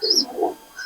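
Soft cooing from an Andhra Kalanka female pigeon, low murmuring calls close by with faint chirps over quiet background noise.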